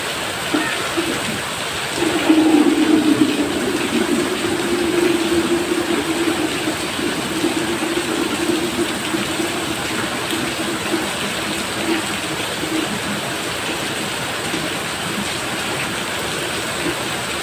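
Heavy typhoon rain pours steadily outdoors, a dense continuous hiss with a slightly louder surge early on, no voices over it.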